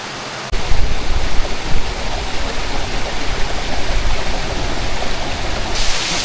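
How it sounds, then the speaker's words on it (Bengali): Water of a mountain stream rushing between huge boulder stones, a steady broadband wash that stays loud and close throughout with no voices. "সেই স্টোনের মাঝখান দিয়ে ঝিরি বয়ে যাচ্ছে"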